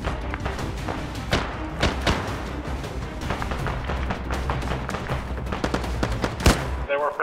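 Rapid gunfire in Arma 3 during a fight against a local militia, repeated sharp shots and bursts in a steady volley over a loud rumbling battlefield bed, with faint speech.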